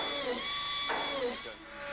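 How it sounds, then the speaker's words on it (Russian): A drill bores angled holes in wood during grand piano construction, giving a whining motor tone with shifting pitch and a short break in the middle, close and moderately loud. "Хасан, вы сверлите такие точные отверстия под углом 15 градусов просто на глаз"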